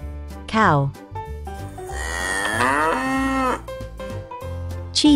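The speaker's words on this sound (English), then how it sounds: "Cow." A cow moos in a long, loud, drawn-out low call with a rising and falling pitch, with shorter animal calls around it and no talking.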